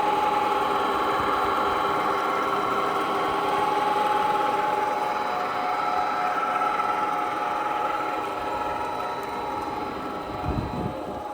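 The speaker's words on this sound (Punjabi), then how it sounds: "ਤੇ 25 ਹਾਰਸ ਪਾਵਰ ਦੀ ਮੋਟਰ ਹੈਗੀ ਹੈ" A 25 horsepower motor driving a turbine on a solar stand runs with a steady, loud mechanical drone and a layered hum that holds throughout, with a brief low thump near the end and no talking.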